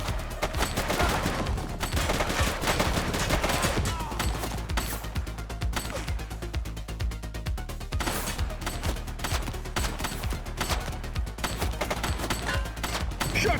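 Repeated bursts of gunfire crack through a police action game, The Precinct, in rapid, dense volleys that carry on over the whole stretch at a loud, close level with no talk.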